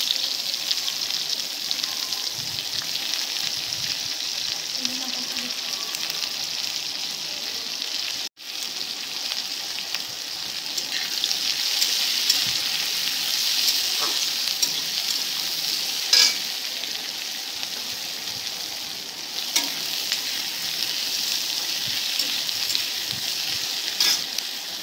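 Sliced onions fry in hot oil for chicken pudina, a dense, continuous sizzle and crackle holding steady close up, with a brief dropout partway through before the hiss resumes.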